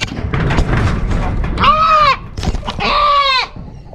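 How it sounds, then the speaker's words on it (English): Several goats bleat loudly in two long, wavering cries close by as they are separated in a pen, over a background of scuffling and rustling. "Cassie, the goat wrangler. Got them all separated?"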